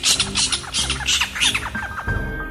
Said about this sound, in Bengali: ছাতিম গাছটা থেকে একটা হুতুম পেঁচা জোরে ডেকে ওঠে